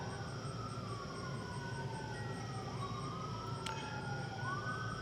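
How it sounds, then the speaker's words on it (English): A distant siren wails, its pitch rising and falling in long sweeps over a steady low rumble of background traffic. "A siren, lonely as it calls in the night."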